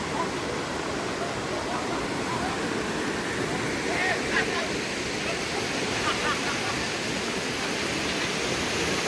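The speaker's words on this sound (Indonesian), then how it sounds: "di lokasi yang paling ujung di aliran sungai yang cukup deras dan airnya sangat jernih sekali" A fast-flowing, very clear river at the far end of a stream in a camping ground at Pacet, Mojokerto, rushes steadily as a broad, close wash of water with no pauses.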